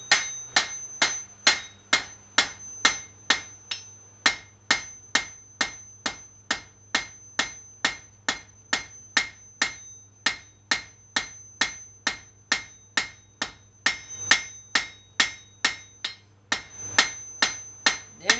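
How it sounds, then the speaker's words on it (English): A hammer pounds hot metal on the horn of an anvil while tapering stock at the forge, striking in a steady, evenly spaced rhythm of sharp ringing blows, loud and close, with no talking over it. "pounding out the metal on the horn of the anvil will move that metal a lot faster"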